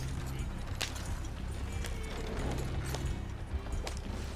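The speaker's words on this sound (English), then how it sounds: "this horse and cart that I'm on" In Red Dead Redemption 2, steady clip-clop of a horse pulling a trader cart plods along at an even pace under a constant rolling rumble, with faint chatter in the background.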